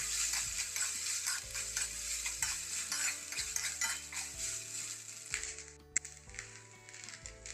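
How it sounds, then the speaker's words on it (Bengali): Cooked rice with chopped green chilies and salt is stirred in a wok, making brisk, rhythmic scraping strokes close up over a light sizzle, with no voices. "দেওয়ার পরে কিছু কুচনো কাঁচা লঙ্কা, স্বাদ মতো নুন, এটা দিয়ে ভালো করে নেড়ে দিন।"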